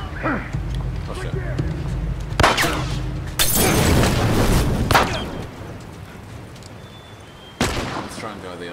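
A grenade or fire bomb goes off in The Last of Us Remastered Survivor Mode, landing as a loud boom with a burst of noise and then a second sharp blast, while a player talks excitedly.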